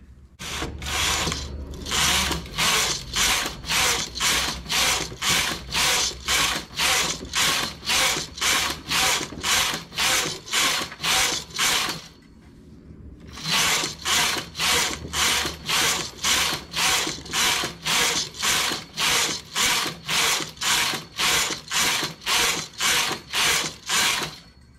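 A knitting machine works the inner part of a trouser pocket, its carriage sweeping back and forth in an even, rapid rhythm of clacking strokes, pausing once briefly before resuming.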